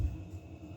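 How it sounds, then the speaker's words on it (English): A washing machine runs in the background, giving a steady low hum and throbbing rumble with no speech over it. "Apologies for the background noise, the washing machine is on."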